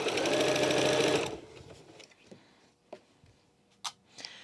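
A sewing machine stitching steadily through bulky Cuddle fabric, running fast and close for about a second before stopping, followed by quiet clicks and handling taps.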